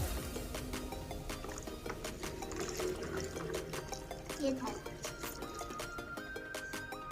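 Water pours and splashes into a container holding toy fish and a toy boat, a close, trickling stream with scattered drips and sloshes, with children and an adult speaking Turkish softly alongside.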